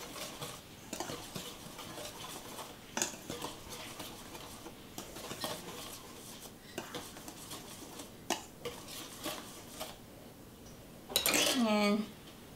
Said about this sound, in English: now we're going to add in the 600 grams of flour, and the milk powder, and the sugar, and the salt, and we're going to whisk that